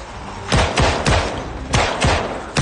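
An M9 pistol fires in Project Zomboid, six loud, punchy shots spaced roughly a quarter to half second apart, close and alone.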